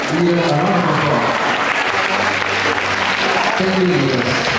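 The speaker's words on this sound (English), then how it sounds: "let's give all of our leaders a round of applause" A school crowd applauds student leaders at an investiture ceremony, a loud, continuous roar of clapping filling the hall, with a voice speaking over it partway through.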